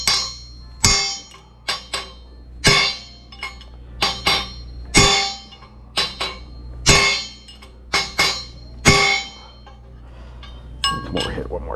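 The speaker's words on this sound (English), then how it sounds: "We're going to take our trusty hammer" A hammer strikes a peening chisel against a Big Block Chevy crankshaft to straighten it, producing a series of sharp metallic clanks at irregular intervals, close and loud, with some talking between blows.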